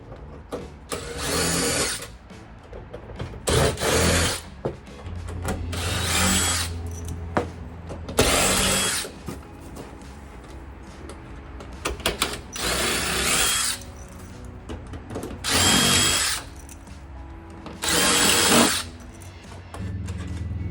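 A power drill takes bolts off in a van build. There are roughly seven loud, close bursts of whining, each a second or two long, with some lower rumble and handling noise between them.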